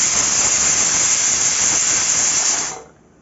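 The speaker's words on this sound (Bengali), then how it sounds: "কুকারের 2টো সিটি হবে" A pressure cooker on an oven cooking mixed dal lets out a loud, close, continuous whistling hiss of steam that holds for nearly three seconds, then cuts off sharply into quiet.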